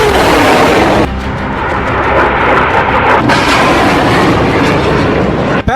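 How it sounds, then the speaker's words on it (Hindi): A rocket fired near the Israel-Lebanon border erupts in a loud, sustained roaring rush that fills the whole stretch, briefly dipping and surging before a sharp break near the end. "फिर फायर हुआ दूसरा रॉकेट, इसके बाद लॉन्च हुआ तीसरा रॉकेट"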